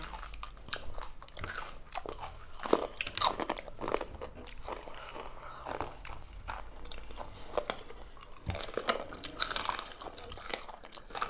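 Crunchy Thai papaya salad with crab and pork rinds being eaten, with repeated close, loud crunching bites and chewing in irregular bursts, no talk.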